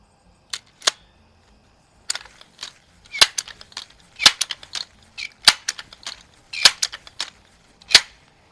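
A Smith & Wesson 77A .22 caliber multi-pump air rifle at an outdoor range gives a series of sharp, dry cracks and clicks, irregularly spaced with short quiet gaps, some crisp single snaps and some clustered clatters.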